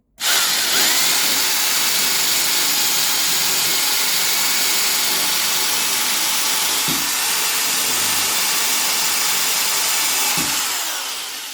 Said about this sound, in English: Now drilling on a soft brick